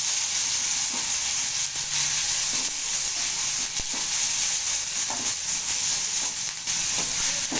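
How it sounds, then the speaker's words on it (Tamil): Curry leaves are sautéed in hot oil for a spicy Chettinad fish curry, making a loud, steady hissing sizzle with faint intermittent stirring scrapes throughout. "அடுத்தல கருவேப்பிலை போட்டுக்கணும். நல்லா வதக்கிடலாம்."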